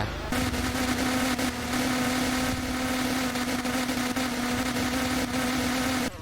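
Steady, buzzing motorcycle engine drone held at high revs in a Roblox riding game, one continuous loud whine with a constant pitch that cuts off near the end.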